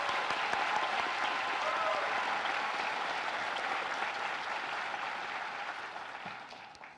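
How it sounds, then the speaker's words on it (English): Large crowd at a high school commencement ceremony applauding the graduating class of 2022, a steady, broad wash of clapping that gradually fades toward the end. "Let's give the class of 2022 a round of applause."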